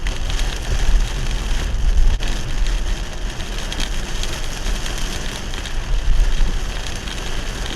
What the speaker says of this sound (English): Heavy rain in Singapore.